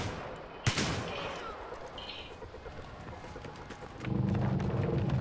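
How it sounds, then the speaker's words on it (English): A loud single shotgun blast rings out in a Battlefield 3 battle, followed by lingering in-game ambience and a louder rumble of combat noise near the end. "I love this shotgun."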